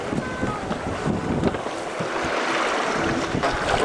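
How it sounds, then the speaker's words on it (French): Strong wind buffets the microphone aboard an ocean rowing boat off Guyane, with constant roaring gusts and the wash of waves around the hull, loud and continuous with no voices. "On commence à avoir du vent qui souffle non plus sur le côté, sur l'avant, mais légèrement sur l'arrière"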